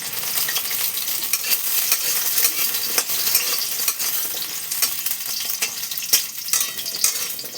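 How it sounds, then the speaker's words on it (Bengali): Taro and mixed vegetables for a vegetable dal hiss and crackle as they fry in hot oil, a dense, steady sizzle with small pops and stirring clinks throughout, no talking. "তেল গরম হয়ে গেছে, এবার আমি এক এক করে সবজিগুলো দিয়ে দিচ্ছি"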